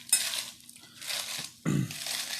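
A head of lettuce is torn by hand into bite-sized pieces in a kitchen, with crisp, rustling rips coming in three close bursts and a soft thump, and no talking.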